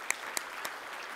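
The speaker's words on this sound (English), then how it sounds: "Give them a round of applause." An audience at a mental health event gives a brief, faint round of applause, with a few distinct claps over a soft wash of clapping.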